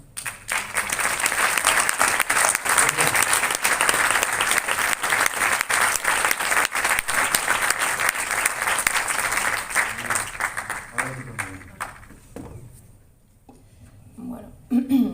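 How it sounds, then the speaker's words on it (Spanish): Sustained applause from an audience at a public presentation about an exhumation of Civil War repression victims in a cemetery in Madrid's Sierra Norte, steady and loud before tapering to scattered claps near the end. "se merece un aplauso"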